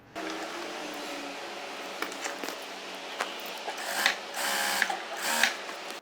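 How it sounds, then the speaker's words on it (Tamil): A sewing machine stitching around blouse fabric runs steadily and close for several seconds, with a continuous mechanical whir that grows a little louder and more clattery toward the end, no talking. "இப்போ சுற்றி தையல் போட்டுருவோமா போட்டுடலாம்"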